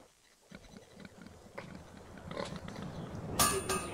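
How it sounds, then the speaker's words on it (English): Pigs grunt and oink in a fantasy game world, a cluster of low grunts building toward the end with some clanking game noise mixed in, moderately close and without speech. "Pigs?"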